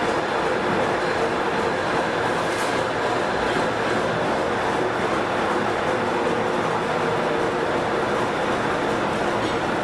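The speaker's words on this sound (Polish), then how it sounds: "Peter Erk uruchamia swoją lokomotywę V10C. Chce ją przygotować do pierwszej jazdy po żnińskiej kolei powiatowej." A narrow-gauge V10C diesel locomotive starting up rumbles steadily at close range, a dense continuous drone with mechanical clatter and no voices.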